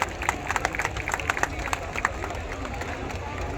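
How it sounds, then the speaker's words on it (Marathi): Crowd applause rings out for disabled bodybuilding contestants at a competition in Kurla, Mumbai: scattered sharp claps over a dense crowd murmur, steady for several seconds. "जरा जोरदार टाळ्या या सर्व स्पर्धकांसाठी."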